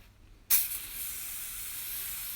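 A single close burst of spray starch misted onto a shirt during ironing, a sharp hiss that starts abruptly and then trails off into a steady softer hiss.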